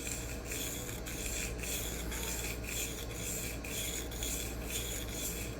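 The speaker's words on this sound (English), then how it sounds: "now I'm pushing down ever so slightly here to rock the knife back" Steady rubbing rasp of a tanto-shaped knife blade being free-hand sharpened on a diamond plate, continuous back-and-forth strokes with a faint rhythmic pulse, close and even in level, no talking.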